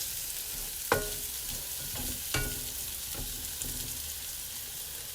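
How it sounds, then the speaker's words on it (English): Blue and sweet potatoes frying in oil while being stirred, a soft steady sizzle broken by a few distinct scraping knocks of the utensil against the pan, fairly quiet and close. "So, you know, I'm just kind of stirring, cooking them."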